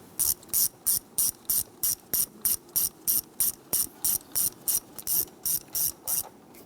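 A hand ratchet snugs down a valve cover bolt on a 3.6L V6 Jeep Grand Cherokee engine, a close, quiet series of even rapid clicking bursts repeating in a steady back-and-forth rhythm with no talking.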